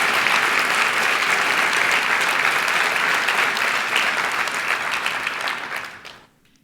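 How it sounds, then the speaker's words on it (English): Conference keynote audience giving a round of applause, dense steady clapping from a large crowd that holds for several seconds and then tapers off quickly to quiet. "So maybe give a small round of applause for all the people that aren't here but have contributed."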